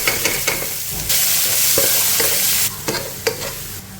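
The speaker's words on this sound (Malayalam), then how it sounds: "ശേഷം അരിഞ്ഞു വെച്ചിരിക്കുന്ന സവാള ഇതിലേക്ക് ചേർക്കുക." Chopped onion sizzles steadily in a hot pan while a spoon stirs it, scraping and knocking against the metal. The frying is close and loud, with no talk over it.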